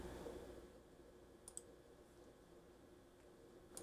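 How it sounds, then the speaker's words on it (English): A computer mouse double-clicks on a program on a Zorin OS 17 desktop, two quick, faint taps close together in an otherwise quiet room. "Let me try again. Double click."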